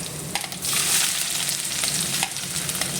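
Garlic fries in hot oil with a bright, continuous crackling sizzle that swells after the first half second, broken by a few light stirring scrapes, close and with no talking.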